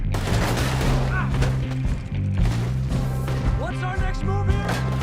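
Enemy gunfire in Red Dead Redemption 2 crackles as repeated sharp shots over a loud, constant low drone and music, dense and near throughout.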